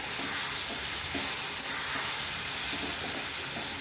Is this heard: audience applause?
no